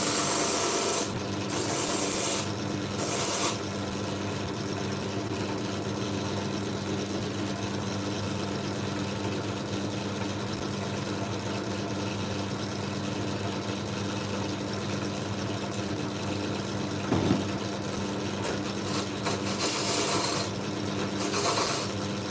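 Steady continuous rasping of a file working the edges of cast copper pieces, a dense scraping texture running throughout with brief brighter bursts near the start and end, close and moderately loud with no voices.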